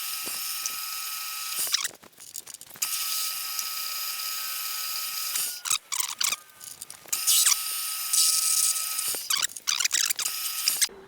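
A centre drill boring holes into a metal bench vice during repair, giving a steady high-pitched whirring grind with a few brief pauses and restarts, close up and without talk.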